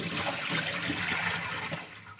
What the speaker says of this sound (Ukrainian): Зараз я водичку злию.